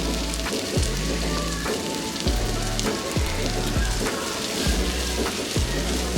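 Spring onions frying in hot oil in a pan, a steady close sizzle with crackling pops and scattered spattering throughout, with no voices.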